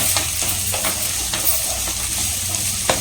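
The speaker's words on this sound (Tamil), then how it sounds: "அவரைக்காய் வந்து சேர்த்துக்கலாம் நல்லா வதங்கணும்" Broad beans and capsicum sauté steadily in a hot pan, a dense continuous sizzle with occasional sharp stirring scrapes and clicks, close and fairly loud throughout.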